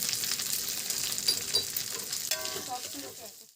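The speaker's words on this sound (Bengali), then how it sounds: "সবগুলোকে একটু ভেজে নিচ্ছি।" Stuffed ash gourd pockets fry in a pan with a steady, fairly quiet sizzle, broken by occasional stirring sounds near the end and no one talking.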